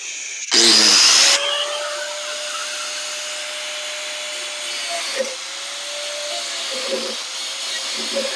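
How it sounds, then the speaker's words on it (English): A power tool cuts into the metal of a tractor quick hitch for a Kubota M6040, starting with a short, loud, harsh burst, then settling into a steady whining hum with faint intermittent knocks. "I'm going to see if I can cut straight in"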